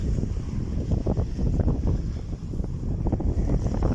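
Strong wind buffets the microphone in gusty, rumbling bursts on a Cumbria beach, with a faint wash of surf underneath; no voices.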